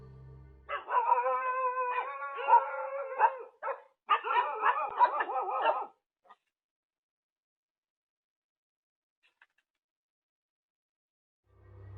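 A dog barks in furious, harmonic bursts captured on a home security camera, two dense volleys over about five seconds, fairly close and loud, then near silence with only a faint low hum.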